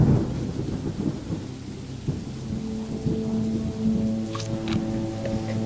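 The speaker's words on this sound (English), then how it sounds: "Diggory, you know the thunder won't hurt you, right?" Thunder rumbles low and continuous through steady rain in a stormy night scene, with a longer roll building in the second half and a faint high tonal element near the end; no one speaks.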